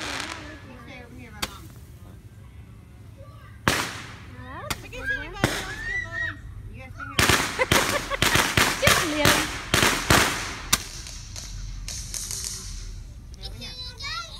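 Firecrackers set off outdoors at a Fourth of July gathering pop in sharp cracks, first a few scattered bangs and then a dense rapid string, close by, with adults and children talking throughout.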